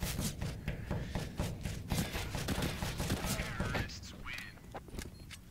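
Rapid bursts of SMG and rifle fire crackle back and forth in a Counter-Strike match, steady clusters of shots overlapping with a commentator talking throughout.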